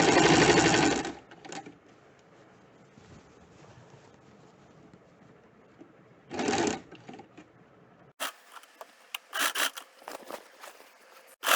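Sewing machine stitching a flat round collar neckline at home: a short run of stitching opens, a second brief burst follows later, then scattered clicks and handling noises of fabric.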